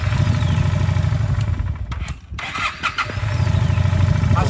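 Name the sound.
Honda Shadow 400 motorcycle engine starting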